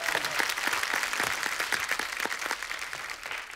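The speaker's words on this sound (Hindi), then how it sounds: "एक बार मास्टर जी के लिए जोरदार ताली।" A studio audience on a comedy talk show claps for Master ji in a dense, steady burst of applause that fades slightly toward the end, with no voices.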